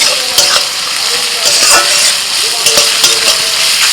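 Chopped onion with salt sizzles loudly in hot oil in a wok, a dense crackle punctuated by repeated metallic stirring scrapes close by.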